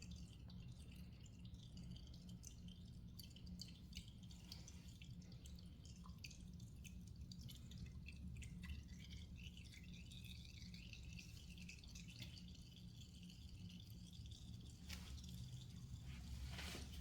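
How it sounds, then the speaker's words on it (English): Engine oil dripping from a 2024 Kawasaki Ninja ZX-10R as it drains during its first oil change, faint steady drips close by over low room hum. "Looks like it's almost done draining, but while it's still dripping"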